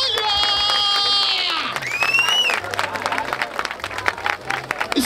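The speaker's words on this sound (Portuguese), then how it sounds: "Palmas pra essa batalha!" A crowd at a rap battle, the 146th Batalha da Aldeia in Barueri, São Paulo, applauds and cheers loudly and continuously, with shouts and whistles rising through the noise.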